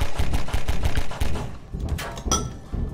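Rapid bursts of gunfire in the Half-Life 2 Synergy video game come as a dense, loud volley of quick shots that thin out into a few scattered reports.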